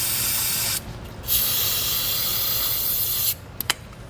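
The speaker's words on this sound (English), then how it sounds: "take some penetrating oil and let that soak on there" Penetrating oil sprayed from an aerosol can onto grimy trailer leaf spring bolts: two close, loud hissing bursts, the first short and the second longer, followed by a couple of faint clicks.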